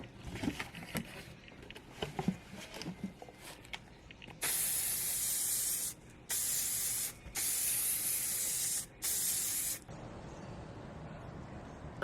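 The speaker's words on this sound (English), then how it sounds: "I'm about to spray my shoes with this water protectant." Several bursts of aerosol water protectant spray onto shoes hiss loudly in quick succession, with short pauses between, after some quiet rustling and handling noises.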